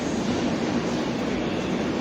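Train pulling into Salem station, a steady dense rumble of rolling rail cars, close and loud with no voices heard.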